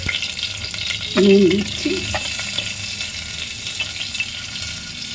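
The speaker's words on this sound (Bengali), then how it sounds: "শুকনো লঙ্কা ফোড়ন, এই জিরে ফোড়ন দিলাম, শুকনো লঙ্কা ফোড়ন দিলাম, তেজপাতা ফোড়ন দিলাম" Cumin seeds, dried red chilli and bay leaf tempering in hot oil, a steady close sizzle and crackle with stirring, while a voice speaks briefly over it.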